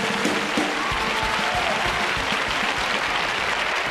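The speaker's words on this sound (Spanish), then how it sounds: "hay la ovación de nuevo de los equipos" Studio audience at a summer game-show contest between two town teams claps in a steady, dense round of applause, loud and continuous without pause.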